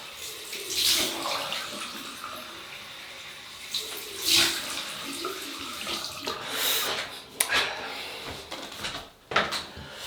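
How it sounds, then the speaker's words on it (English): Tap water runs into a basin for a cold rinse after shaving, a faint close splashing in short bursts with small knocks and clatters between them. "We'll have a cold water rinse."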